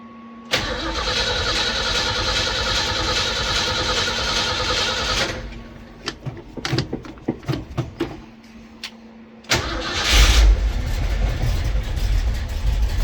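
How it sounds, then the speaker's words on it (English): A vehicle engine with a stuck rear end and spinning drive shaft is cranked, catches and runs, a loud steady roar, then sputtering bursts and clatter before revving up again, close by. "So I'm gonna start by cranking this thing up."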